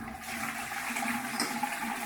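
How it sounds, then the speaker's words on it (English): A toilet is flushed using a 3D printed flush handle, giving a steady, close rush of water in a bathroom with no talk over it. "is a 3D printed bog flush"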